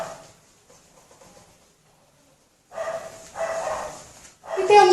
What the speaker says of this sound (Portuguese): Vocês estão ouvindo, tem um cachorro latindo aqui.